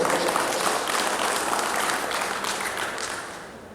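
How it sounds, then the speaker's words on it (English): A crowd at the Public Service Union's 100th anniversary celebration applauds in a dense, sustained wash of clapping that gradually fades toward the end, with some voices mixed in. "give yourself a round of applause for that again"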